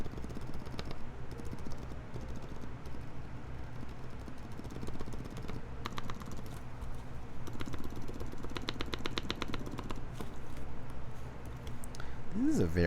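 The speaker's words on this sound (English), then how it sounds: "This is a very strange switch. Definitely not tactile as Holy Pandas" Mechanical keyboard switches are pressed in scattered bursts of quick, crisp clicks and clacks, fairly faint under ongoing talk.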